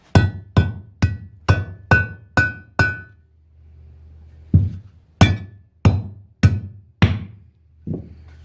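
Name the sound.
hammering out shift rod bushing from Evinrude 10 HP lower unit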